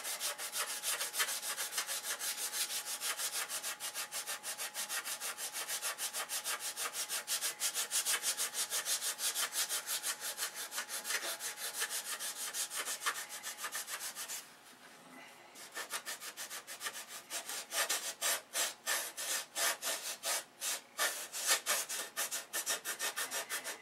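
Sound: sanding a wooden model by hand

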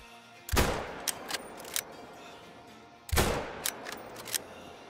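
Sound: 338 Magnum bolt action rifle shots in video game Call of the Wild

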